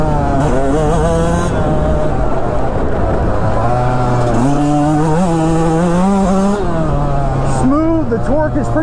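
A Yamaha YZ125X two-stroke dirt bike is ridden with its engine buzzing loud and close, its pitch climbing and dropping as the throttle opens and shifts. Strong wind noise and a rider's voice are heard along with it.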